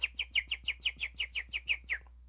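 A person whistles an imitation of a bird call: about a dozen quick, evenly spaced high chirps in a steady rhythm, close and clear, with no talking.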